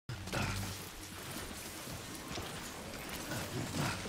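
Steady rain falling in the video game Death Stranding, a dense continuous hiss of drops with a few louder patters, close and unbroken throughout with no voices.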